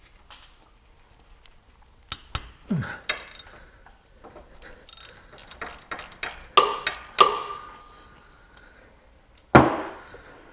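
A ratchet fitted with an extension works a bolt on a Kubota BX23S tractor, giving irregular bursts of sharp clicks and metallic taps, close, with quiet gaps between the bursts.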